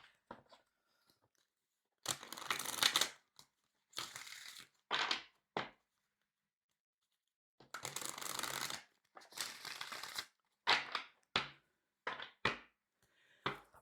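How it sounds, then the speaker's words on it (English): Tarot cards shuffled by hand in two bursts of dense riffling and crunching, with short pauses and a few separate snaps near the end, close and fairly loud with no talking. "Let me shuffle up real quick."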